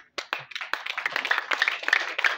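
Wedding guests clap their hands together, a close, steady patter of many overlapping claps that starts abruptly after a brief silence and keeps going at an even, lively pace.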